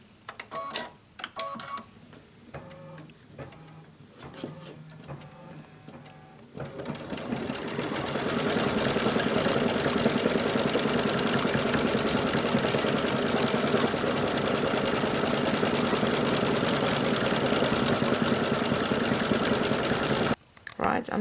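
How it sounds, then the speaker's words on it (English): An embroidery sewing machine stitches out lettering in soft pink thread on 100% cotton fabric, first in brief start-stop bursts under quiet talk, then running as a loud, steady, fast mechanical whir for about thirteen seconds before stopping abruptly. "we're going to stitch out the lettering"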